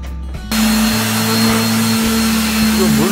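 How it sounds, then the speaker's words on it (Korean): A power sander works over a rusted front door, its loud steady motor drone starting abruptly after a brief quiet moment and holding close and constant. "샌딩기로 샌딩을 하고 있습니다."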